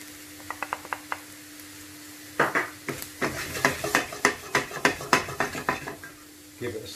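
Cumin and coriander being stirred in a pan with a metal utensil, a few light taps followed by a run of rhythmic scraping clinks against the pan, close up with a faint sizzle underneath.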